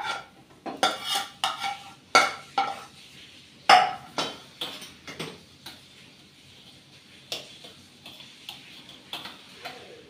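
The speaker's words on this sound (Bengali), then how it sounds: "তো প্লেটটার মধ্যেই শাকটাকে ঢেলে নিচ্ছি।" Fried white-stemmed leafy greens being scraped from a pan onto a plate after the gas is turned off: a close run of metallic clinks and scrapes, dense at first and then spaced out, with no talking.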